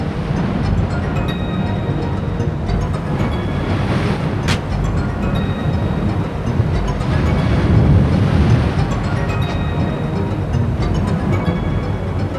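Strong flowing water on the Kunene River, a continuous loud rushing wash with a brief sharp knock partway through, alone without voices for about twelve seconds.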